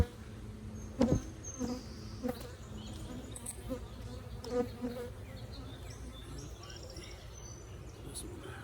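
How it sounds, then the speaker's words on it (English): Honey bee buzzing agitatedly close by during a hive inspection, a steady insect drone with a few sharper bursts near the start and middle, over background hum and rustling. "got another pissed off bee"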